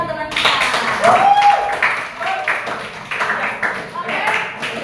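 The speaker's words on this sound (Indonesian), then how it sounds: "Itu tepuk tangan kita." A class claps in a rhythmic pattern of quick hand claps, fairly close, with voices calling out over the clapping.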